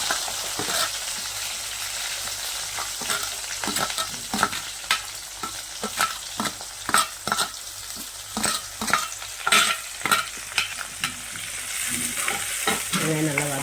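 Sliced onions frying in hot oil while being stirred in a pan for a dried seer fish thokku, a steady sizzle broken by repeated sharp scrapes and clinks of the spoon, close and loud with no talk.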